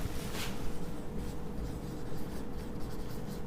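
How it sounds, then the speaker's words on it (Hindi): Marker or chalk strokes on a classroom board during an organic chemistry lesson, a steady scratchy scribbling with a brief louder burst early on, heard alone at moderate level. "लिखते हैं"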